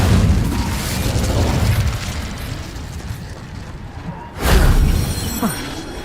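Roaring whoosh of an Incendio fire spell in the Hogwarts Legacy video game, a loud sustained burst that fades, then another sharp flaring blast near the end.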